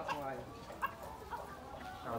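A free-range farmyard hen gives a few short, soft clucks while handled near the listener, against a muffled background of movement and faint talk.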